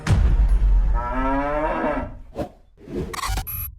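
A cow gives a loud, drawn-out low moo up close, followed by a few shorter, rougher bursts of sound.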